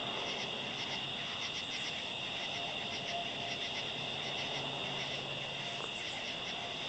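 Steady, dense cicada buzzing at night with a pulsing high-pitched trill, continuous throughout and fairly close, with no voices.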